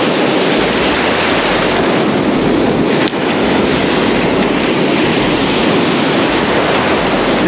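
Ocean surf on a beach during surf fishing: a loud, steady roar of breaking waves and white foam that fills the whole stretch, with no voices.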